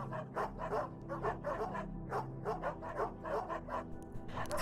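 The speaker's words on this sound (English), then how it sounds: "Y'all don't need to bark so loud" Several dogs bark loudly in a rapid, continuous volley of overlapping woofs and yips, close by, with no talk over them.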